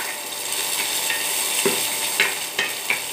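Dried red chillies are stirred and sautéed in a hot pan, giving a continuous oily sizzle with occasional scraping clicks of a spoon against the metal.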